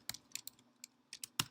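Light, quick keystrokes on a computer keyboard while a Google Form title is typed, a short irregular burst of soft clicks heard close up in a quiet room.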